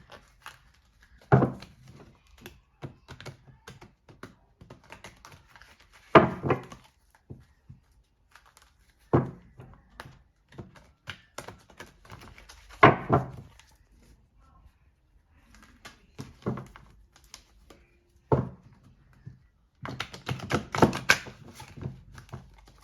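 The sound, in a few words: shuffling a deck of oracle cards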